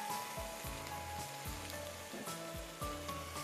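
Coarse minced meat for daal maash fries in a pan, a soft crackling sizzle overlaid by a rhythmic series of low thumps and knocks from stirring, close and fairly quiet.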